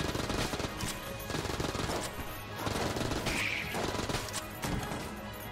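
Rapid automatic AK fire in the game Enter the Gungeon, dense crackling bursts running almost continuously with brief dips, loud and close.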